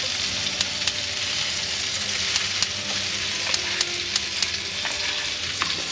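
Eggs and hash browns frying in a pan until crispy, with a continuous close hiss of sizzling oil broken by occasional sharp pops and light ticks, steady and alone.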